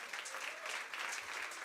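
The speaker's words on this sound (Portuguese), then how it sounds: "Aplauda ao Senhor." Church congregation applauding during a sermon, a steady, dense wash of clapping from many hands that holds evenly throughout, moderately distant.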